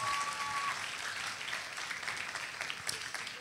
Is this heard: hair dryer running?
no